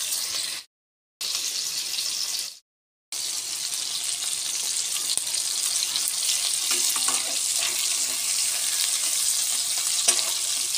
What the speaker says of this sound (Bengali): তো মাছটা ভেজে নিই।